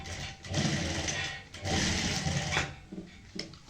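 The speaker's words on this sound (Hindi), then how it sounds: "इसके ऊपर यहाँ पे सिलाई लगाएंगे" Sewing machine stitching over the elastic seam of pleated palazzo pants, running in two steady whirring bursts with a short pause between, close and fairly loud, with no talking.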